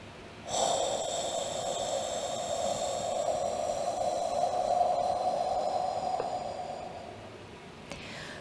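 A long, steady exhaled breath during a Six Healing Sounds qigong practice, a soft sustained breathy tone lasting several seconds at close range, with no speech.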